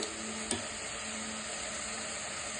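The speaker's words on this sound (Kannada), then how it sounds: "ಈಗ ಇದು ಚೆನ್ನಾಗಿ ಫ್ರೈ ಆಗಿದೆ." Chicken frying in oil for a chilly chicken starter gives a steady, close sizzle with a brief clatter of stirring near the start. The sound runs continuously and no one talks over it.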